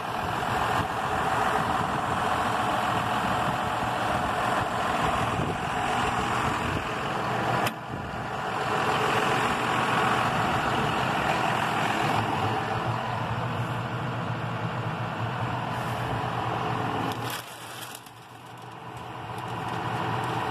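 A 2016 John Deere 6150R tractor's engine runs steadily at idle, a continuous even mechanical hum with a brief dip partway and a softer lull near the end, no voices.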